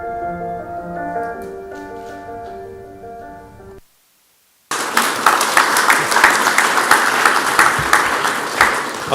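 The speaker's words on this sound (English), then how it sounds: "Applause is appropriate." Sustained audience applause at a church-related media talk. It bursts in after a short gap of silence that follows a sustained tonal passage, then carries on as dense, even clapping.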